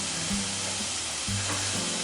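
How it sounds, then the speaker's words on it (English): Jalapeños and vegetables sizzle loudly and steadily in a Lodge carbon steel pan over an open fire for paella, a close hiss with faint low tones weaving underneath. "That's getting up to a nice sizzle now."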